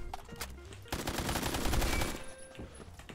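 Rapid automatic gunfire from a Roblox shooter game bursts out loud and close in a dense rattling volley, then tapers off, with a few lighter shots before it.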